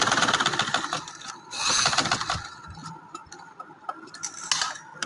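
A sewing machine runs stitches along the edges of a fabric neckline, giving a rapid mechanical ticking and clattering close by that comes in bursts and then eases off.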